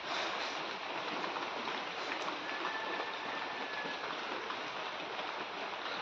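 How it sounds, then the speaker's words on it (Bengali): Steady rain falls around a newly bought car, a dense, even hiss of drops that holds unchanged from start to finish at a moderate level. "এখন যা বৃষ্টি"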